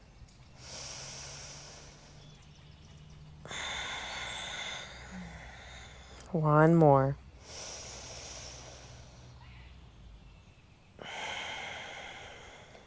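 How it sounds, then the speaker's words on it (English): Loud, deep breathing during a gentle vinyasa yoga session, long audible inhales and exhales repeating at a slow, steady pace close to the mic, with a voice speaking briefly partway through. "Let's hold for 3 deep breaths. You got this. Make your breath really loud."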